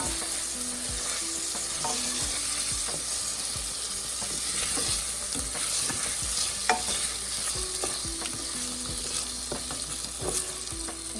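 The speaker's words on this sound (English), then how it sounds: "I'll saute this rice for 2 to 3 minutes." Basmati rice sautés in a pan with a constant sizzle while a spoon gently stirs and scrapes in frequent soft strokes, close and steady with no talk.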